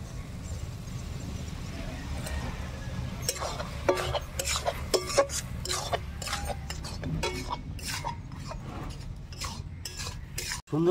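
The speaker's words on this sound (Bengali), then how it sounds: "সুন্দর ভেজে নিচ্ছে ছাতুগুলোকে, এখন আমি ভাজা মশলা দিয়ে নামিয়ে নেব।" Wild sal mushrooms, with mustard seeds, salt and turmeric, are fried and stirred in a hot wok, giving repeated clinks and scrapes of a utensil against metal over a low background of cooking.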